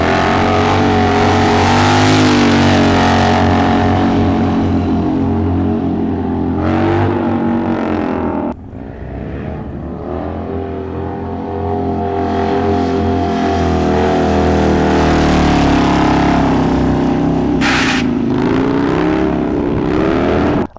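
A small Honda Grom motorcycle engine revs loudly and close, rising and falling in pitch with several throttle blips and a brief drop before climbing again.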